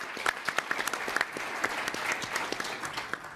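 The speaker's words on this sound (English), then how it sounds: "Let's give Jason another round of applause." An audience at a forum on Iran policy applauds, dense steady clapping from many hands in a large hall, sustained and even for a few seconds without speech.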